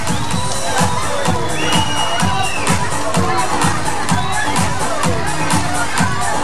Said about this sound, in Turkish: Alkışlar gelsin lütfen